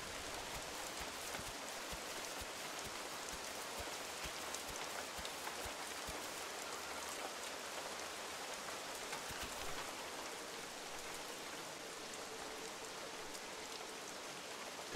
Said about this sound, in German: Boah, ich finde den Regen geil.